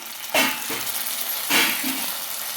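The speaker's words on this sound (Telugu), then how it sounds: "ఇవి కూడా కొంచెం బాగా ఫ్రై చేసుకోవాలి" Vegetables frying for Chinese-style chilli chicken, a continuous sizzle with two louder surges as the pan is stirred, close and without talk.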